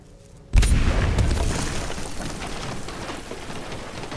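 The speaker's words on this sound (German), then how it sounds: "Get down, it's gonna blow." A single heavy C4 blast in the video game Aliens: Dark Descent, a sudden deep boom that rolls into a long, fading rumble and debris hiss.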